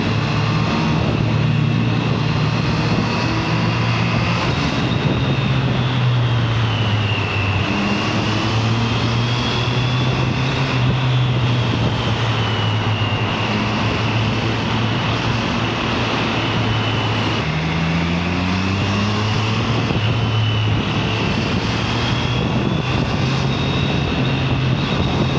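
Motorcycle engine riding through a tunnel: a loud, steady droning roar whose pitch rises and falls as the bike changes speed, continuous throughout with no talking.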